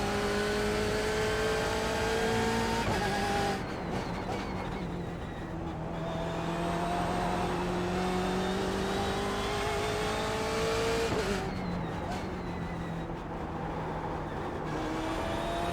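Race car engine from a BMW in the iRacing sim, holding a loud, steady high-revving drone with gear shifts and pitch sweeps rising and falling throughout, no talking.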